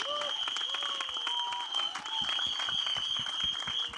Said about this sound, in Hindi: दोनों के लिए एक बार जोरदार तालियां हो जाएं फॉर द डायरेक्टर डुओ